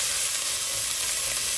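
Gundruk, fermented greens, frying in a pan, a close, continuous crackling sizzle with soft stirring scrapes and no voices.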